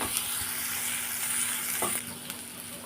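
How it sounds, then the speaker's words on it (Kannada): Onion and tomato frying in a pan give a steady, dense sizzle close by, with a few faint stirring taps and no voices. "ಈ ಟೊಮೊಟೊ ಸ್ವಲ್ಪ ಮೆತ್ತಗಾಗೋವರೆಗೂ ನಾನು ಫ್ರೈ ಮಾಡ್ತಾ ಇರ್ತೀನಿ"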